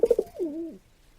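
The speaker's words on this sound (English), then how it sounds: "That sound that you are hearing is that of the English carrier pigeon" An English carrier pigeon gives a few quick soft notes and then a longer rolling coo, close and clear, followed by quiet.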